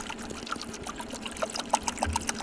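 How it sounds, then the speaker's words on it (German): Tap water poured into the ice maker of a portable fridge-freezer, a close, steady splashing pour with small bubbling trickles and drips over about two seconds, heard alone. "So, und dann gibst du jetzt hier einfach Wasser drauf."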